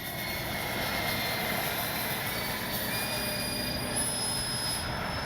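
A Freewing AL37 RC jet passes with its landing gear down, producing a steady, continuous turbine whine with a thin high-pitched tone over a broad rushing roar and no clear rise or fall.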